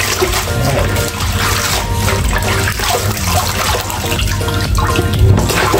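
Tap water running over salmon being washed in a kitchen sink: a loud, continuous gushing stream with splashing and small clatters as the fish is handled, close up.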